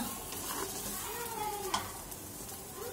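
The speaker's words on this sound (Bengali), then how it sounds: "যত সুন্দর করে নাড়াচাড়া করে ভাজা করবেন, শুটকিটা খেতে তো ভালো মজা লাগবে" Chepa shutki, fermented dried fish, sizzles softly in a pan while being stirred and turned, a quiet continuous fry with occasional scrapes and small clinks of the spatula.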